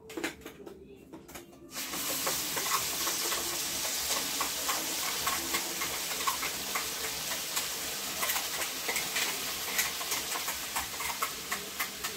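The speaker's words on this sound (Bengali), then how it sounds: "এর মধ্যে দিয়ে দেবো এই টমেটো, আদা রসুন লঙ্কা পেস্ট, পেঁয়াজ পেস্ট। পেস্টটা এর মধ্যে ঢেলে দেবো।" Tomato, ginger-garlic-chili paste and onion paste hit hot oil with fried spices for an egg curry, bursting into loud, steady sizzling after a brief quieter start, with scattered ticks and spoon scrapes in the pan.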